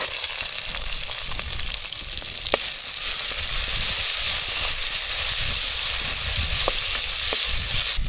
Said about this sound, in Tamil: எண்ணெய் நல்லா சூடாகிடுச்சு ஜீரகம் வரமிளகாய் இது ரெண்டையும் சேர்த்துக்கலாம்